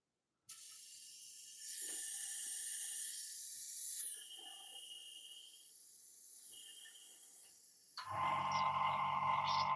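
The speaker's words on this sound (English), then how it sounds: "Clean out quickly the airbrush." An airbrush being cleaned out gives a steady, close high hiss of rushing air that wavers in strength for several seconds, then shifts to a louder, fuller blast near the end.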